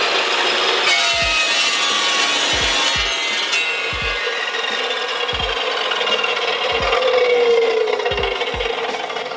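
An Evolution EVOSAW380 15-inch steel-cutting saw slices through stainless steel, a loud continuous grinding whine with steady cutting noise and a regular low thumping pulse underneath throughout.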